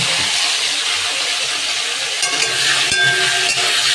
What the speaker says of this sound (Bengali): এখন আমি বিচি কলা আর আলুটা দিয়ে ভেজে নিচ্ছি।